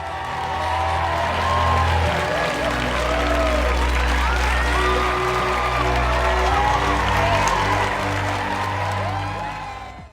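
A graduation audience applauds a speech with sustained, dense clapping mixed with crowd murmur and a few cheers, steady and loud for the whole stretch before stopping abruptly.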